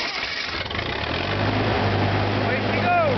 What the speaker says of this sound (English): we got to turn on the ignition switch and press the starter button